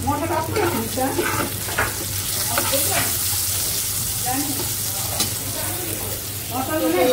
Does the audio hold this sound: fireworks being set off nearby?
no